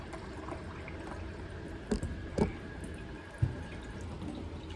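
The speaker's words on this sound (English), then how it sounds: "just fill it up with some water" Water runs steadily from a tap into a container, with a few soft clunks and knocks partway through.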